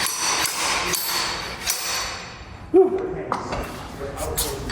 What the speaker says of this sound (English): the slide hammer will basically do that